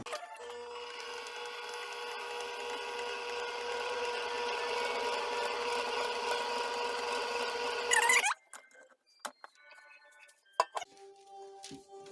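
An electric mixer runs at its lowest speed through a flour and lard mixture, a steady whirring hum for about eight seconds that then stops, followed by a few scattered clinks and bumps.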